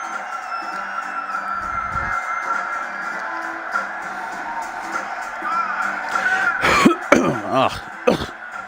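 A harsh, close cough with throat clearing rises out of a steady hum, coming in a few rough bursts near the end, from someone speaking into a microphone.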